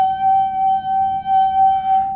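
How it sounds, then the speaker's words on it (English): A wet finger rubbed around the rim of a water goblet makes the glass sing: a loud, steady ringing tone that gently pulses and holds for about two seconds, with no talking. "I do it by getting my finger wet and then sliding it across the rim of the water goblet."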